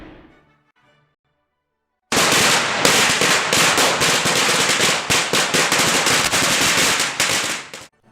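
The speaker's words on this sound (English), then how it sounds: "lighting firecrackers and fireworks in the Chinese New Year" A rapid, dense string of Chinese New Year firecrackers bursting loudly, crackling nonstop for several seconds after a brief quiet start, then cutting off.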